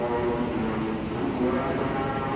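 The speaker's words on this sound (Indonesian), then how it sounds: "Kereta api Pangandaran." Steady rumbling roar of the Pangandaran executive passenger train at Cibatu station, a continuous close rolling drone with no breaks.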